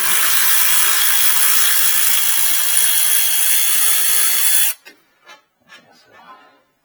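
A power tool working on a Chevy Cobalt's lower control arm bolts gives a loud, continuous hissing rattle for nearly five seconds, then cuts off, followed by faint clinks and quiet shuffling.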